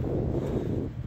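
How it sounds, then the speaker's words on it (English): Steady wind buffets the microphone in a low, rumbling roar, constant and close throughout, on the Appalachian Trail in cold, rainy weather. "cold and windy and rainy."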